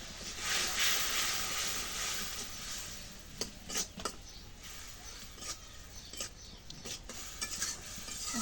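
A spice masala with turmeric and salt is stirred and sautéed in a pan. A soft background sizzle runs under repeated scraping and clinking of a utensil against the pan, close and fairly quiet.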